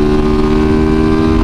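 A motorcycle engine drones loud and close at speed on a highway, a steady tonal roar over the whole brief moment.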